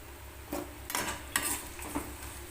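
Okra fries in a pan while a utensil stirs it, with a soft continuous sizzle beneath a few distinct scraping and clinking strokes of the spoon against the pan.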